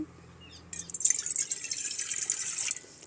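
Water poured into a pot set on a lit stove, starting with a few faint drips before a steady close pouring splash runs for about two seconds and then stops.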